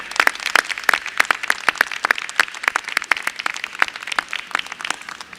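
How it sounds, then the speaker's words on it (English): A room full of people applauds volunteers at a Children's Week press conference, with loud, dense clapping that stays steady and sharp for several seconds. "Let's give our volunteers a round of applause."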